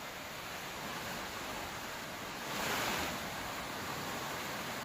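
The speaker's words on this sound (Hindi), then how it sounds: "अखनूर में चिनाब नदी उफान पे है" Swollen Chenab river in flood at Akhnoor after heavy rain, a steady broadband roar of rushing water filling the scene, swelling briefly louder midway with no voices.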